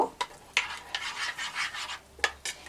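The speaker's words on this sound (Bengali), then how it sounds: "আদা আর কাঁচা লঙ্কা যে পেস্ট নিয়েছিলাম সেটা 1 চামচ দিয়ে আমি এটা খুব ভালো করে মিশিয়ে নেব" A spoon works ginger and green chilli paste into thick lentil batter in a bowl, making repeated close, wet rubbing and scraping strokes in an uneven rhythm.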